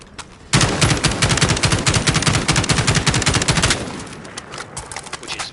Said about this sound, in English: even with the tap fire, even when you pull down a little bit, I'm rapidly alternating my down tap and my shooting